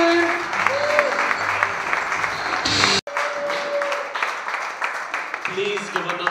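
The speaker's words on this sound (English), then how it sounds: "Please give another round of applause." An audience at a stand-up comedy roadshow in a Nicosia venue applauds steadily, with dense clapping throughout and a brief cut near the middle, while voices sound over the applause.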